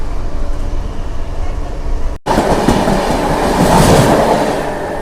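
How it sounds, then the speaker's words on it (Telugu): The Mumbai CSMT to Chennai Central express rushes past in a loud, continuous rumble with clattering wheels. A sudden break is followed by an even louder roar that builds and then eases slightly, with no voices. "ఆ ట్రైన్ వచ్చేసి మనకు ముంబై సిఎంటీ నుంచి చెన్నై సెంట్రల్ వెళ్ళే ట్రైన్ ఇది"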